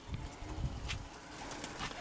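Soft, low pigeon coos repeat in a gentle rhythm, faint and close, with light rustling in the background.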